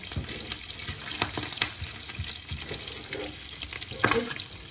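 Lard sizzles and crackles steadily in a hot pan, with occasional louder pops and spatters and some faint stirring.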